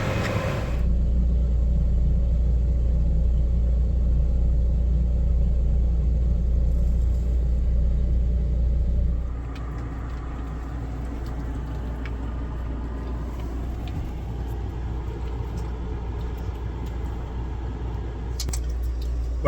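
A tour bus engine idles at Gettysburg with a steady, close, low rumble that holds for about nine seconds, then drops to a quieter, steady hum.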